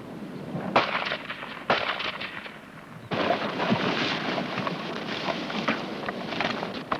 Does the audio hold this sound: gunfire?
yes